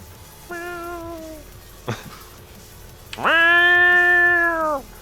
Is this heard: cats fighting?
yes